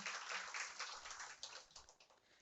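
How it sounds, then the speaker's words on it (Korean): Applause from staff at an office meeting, a dense patter of many hands clapping that begins at once and gradually thins out over a couple of seconds, heard at moderate distance with no talk over it. "박수 부탁드립니다."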